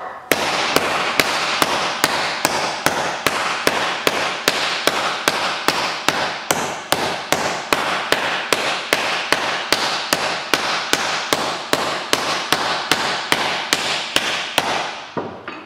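Steady hammer blows on the front left wheel arch panel of a 1970 VW Beetle, loud metallic strikes repeating evenly about twice a second for the whole stretch, with no talk over them.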